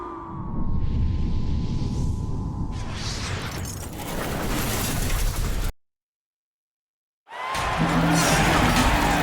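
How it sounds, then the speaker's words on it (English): Virtual arena crowd at a San Francisco game between the Philadelphia 76ers and Golden State Warriors in NBA 2K21, a loud continuous roar with whooshing swells that cuts out briefly before returning just as loud. "We've got an electric crowd here in San Francisco."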